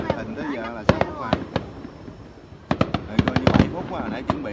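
Fireworks explode on New Year's Eve, a string of sharp, loud cracks and bangs in irregular bursts, some in rapid clusters, with people chattering in between.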